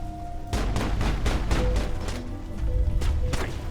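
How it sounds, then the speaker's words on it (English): Explosions and gunfire erupt in the Mass Effect video game after a grenade is thrown, a dense run of loud, repeated blasts and sharp cracks that follows a short quieter stretch and continues to the end. "Looks like a grenade."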